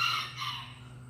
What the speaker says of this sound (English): That one rooster is just, he wants to be in the show.